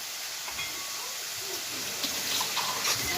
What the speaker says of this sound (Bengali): একটু জল দিয়ে জলগুলো টানে ফেলবো